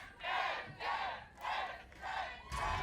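A live esports crowd at a Valorant match chants in rhythmic unison, four or five loud surging shouts spaced about half a second apart, with no separate speaking voice over it.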